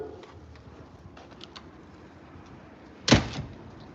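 An apartment door lock turns with a single sharp metallic clunk, close and loud, following a few seconds of quiet room background with faint scattered ticks.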